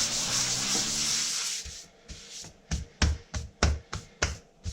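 An end-grain wooden cutting board being sanded, heard as a steady close rubbing hiss that gives way to a series of sharp, separate scraping strokes, all without any talk.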